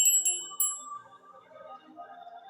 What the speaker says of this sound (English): I was given this bell very recently by Associates of Alexandra